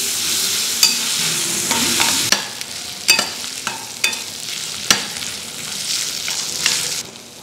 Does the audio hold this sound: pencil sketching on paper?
no